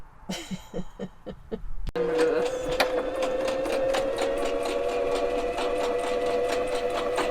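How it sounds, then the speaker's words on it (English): A sewing machine runs steadily with a fast mechanical whir and rhythmic needle clatter, starting after a few brief stitches and continuing loud and close. "trying to teach me how to use the sewing machine"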